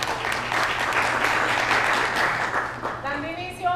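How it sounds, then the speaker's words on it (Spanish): Audience applause at a business innovation conference fills the room with dense, steady clapping that fades toward the end as a voice begins speaking. "Y aplauso para Andrew, la verdad me encantó el concepto."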